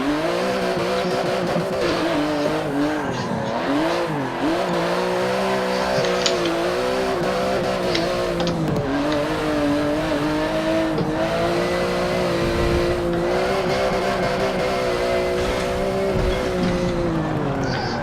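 Rear-engine car driven in the Forza 7 racing game: a loud, continuous engine drone whose pitch rises and falls with throttle and gear changes, with faint tire noise underneath and no talking.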